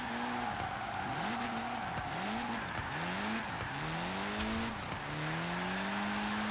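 A drift-built Abarth in Forza Horizon 4 slides sideways through corners, engine revs rising and falling in repeated sweeps while tires squeal continuously, loud and close with no talking.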